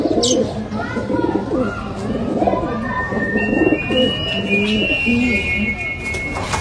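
Sambhal desi pigeons coo in low, rolling phrases close by, with scattered chirps and a thin high whistle-like tone partway through.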